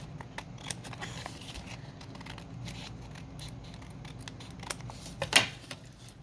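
Scissors trimming a folded sheet of paper while making a paperclip pocket craft, a faint run of soft snips and paper rustles with one sharper, louder cut near the end, close by.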